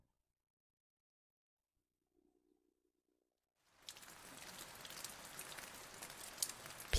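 Silence gives way abruptly to steady rain falling, a dense close hiss of drops with a few louder pattering hits, continuing evenly to the end without any voices.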